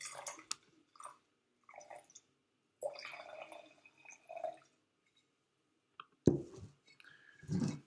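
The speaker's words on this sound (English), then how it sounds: "I'm pouring my wine into it" Wine is poured into a large glass in short, close splashing and trickling bursts with pauses between them, quiet and alone.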